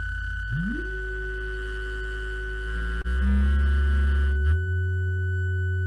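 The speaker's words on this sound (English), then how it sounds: "So now we have three different sine waves that are being added into each other." Three steady synthesized sine tones layered together, one sliding upward into place early on, then a shift at the midpoint as the combined pitches change, forming a constant electronic hum with no talk.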